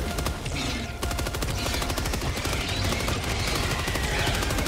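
Loud, rapid automatic gunfire from the video game Helldivers 2 rattles in dense bursts almost without pause, a sustained, punchy barrage filling the whole moment.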